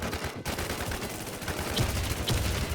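Gunfire in the shooter game Warz Deadzonez, a dense stream of shots rattling close and loud, with sharper bursts standing out near the end.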